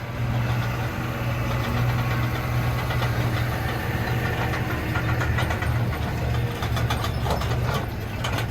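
A tractor pulls a long green corn planter across a field at planting time, a loud, steady engine drone with a low rumble that holds for the whole stretch, with no talking.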